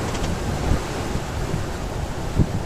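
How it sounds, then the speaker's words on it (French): Wind and sea waves buffet a sailboat crossing from the Canaries toward Senegal under a starboard tailwind of about 20, a constant loud roar with low thumps of water against the hull. "On a un vent arrière tribord."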